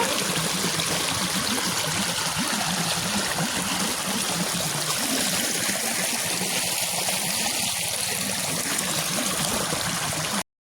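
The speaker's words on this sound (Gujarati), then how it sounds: "કાંઈ કેવું મસ્તીનું પાણી આવે ગાડી પર" Water flowing in a steady, loud, continuous rush and splash that fills the whole stretch without pause, with no talking.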